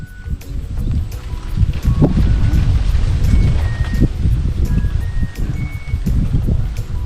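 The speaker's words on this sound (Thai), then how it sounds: "ลมแรง" Strong wind at a Thai fishing spot among lotus leaves buffets the microphone in loud, gusty low rumbles and rustling, surging unevenly throughout with faint tonal background chirps.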